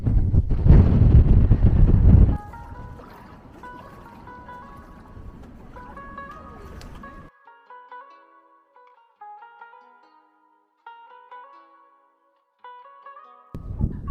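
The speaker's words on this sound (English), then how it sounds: "It's really windy." Strong Atlantic coastal wind on a Canary Island cliff roars loudly against the microphone for about two seconds, gives way to soft melodic tones, then gusts back in at the very end.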